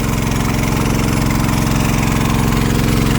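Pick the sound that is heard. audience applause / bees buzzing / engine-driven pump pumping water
engine-driven pump pumping water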